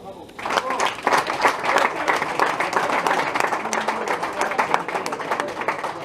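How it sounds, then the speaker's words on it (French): An audience at a village festival closing ceremony in Montaut claps for a player, a dense burst of applause swelling after the first half second and holding steady and loud, with scattered voices mixed in. "on peut l'applaudir"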